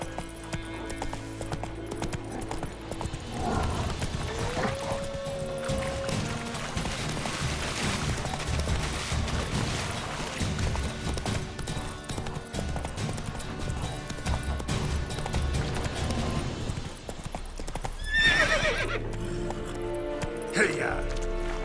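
Horse galloping with steady rhythmic clip-clop hoofbeats and an occasional whinny in The Witcher 3 video game, continuous and fairly close, with a voice speaking over the ride.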